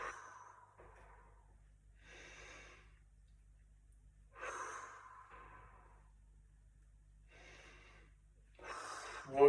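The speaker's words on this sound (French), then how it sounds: "On respire bien profondément." Slow, deep breaths drawn in and let out while a leg stretch is held, soft and close, each inhale and exhale separated by quiet pauses against a faint low hum.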